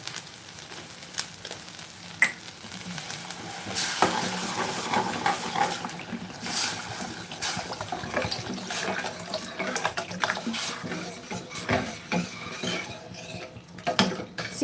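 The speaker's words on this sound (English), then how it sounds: "Now we'll add some water to it." Water pours into a hot pan of sweet corn cooked in salted butter, hissing and sizzling steadily, with clinks of a utensil against the pan and occasional splashes, close up and with no talking.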